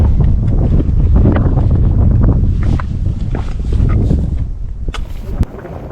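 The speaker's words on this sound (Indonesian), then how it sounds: "Korban keganasan angin ribut hujan badai." Strong storm wind on Mount Gamkonora buffets the microphone with a continuous roaring rumble, gusting unevenly, with a few faint clicks near the end.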